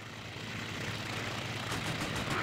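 Rapid aircraft cannon fire during a dogfight in the IL-2 Sturmovik flight game, a dense continuous rattle over engine drone that grows slightly louder, with no talk.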